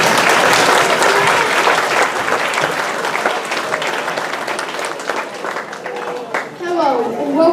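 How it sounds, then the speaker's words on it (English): An audience applauds a school chorus at an elementary school spring concert, full and sustained clapping from a large crowd with a few cheers, easing slightly before a voice begins speaking near the end. "let's give them a big round of applause"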